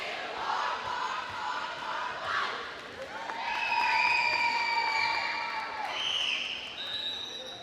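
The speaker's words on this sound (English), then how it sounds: "Now we got a little bit of crowd involvement again." Crowd at a girls' high school volleyball match cheering and shouting in a gym, a loud, swelling roar with rising yells and whistle-like calls that peaks mid-way and stays lively to the end.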